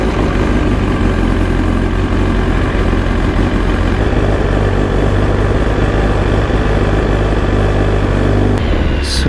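A BMW motorcycle engine warms up at idle, a steady loud rumble close by that runs almost the whole time before cutting out abruptly near the end.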